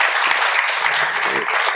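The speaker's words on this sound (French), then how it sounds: "On vous applaudit." Brief, even applause from a conference audience at a session on networks and resilience, a continuous wash of clapping at moderate loudness with a faint voice briefly underneath.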